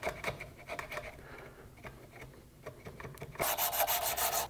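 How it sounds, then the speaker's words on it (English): A chisel scrapes and shaves wood on a hickory self bow in short, uneven strokes, close up, with a louder, harsher rasping burst near the end and no voices. "This time I'll use a chisel."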